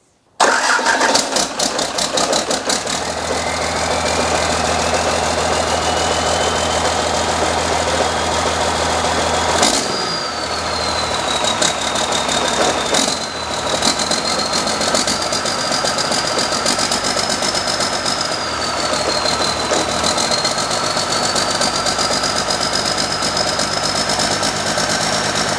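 A 12-valve Cummins diesel engine in a Land Cruiser 80 Series cranks and catches on its first start, then settles into a loud, steady idle with a rising whine and occasional revving, close by.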